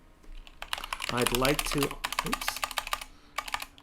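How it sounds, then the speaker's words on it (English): Rapid clicking of keys on a computer keyboard, close and clear, tapping in quick bursts around a man's brief spoken words. "I'm going to go ahead and just start typing."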